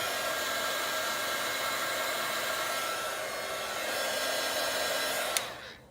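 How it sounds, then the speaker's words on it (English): A handheld heat dryer blows steadily and loudly up close to dry ink on a stamped card, then clicks off near the end. "Make sure I dry it, otherwise I'll smear it."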